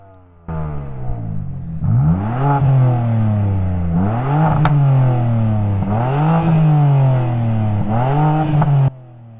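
A BMW car engine revs hard several times in a row, each rise in pitch climbing and then dropping back in a steady rhythm. It is loud and close, with no talking.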